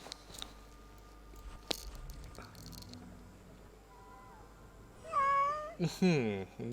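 A pet cat meows a few times in quick succession near the end, loud and close, after a quiet stretch of faint room noise and small clicks.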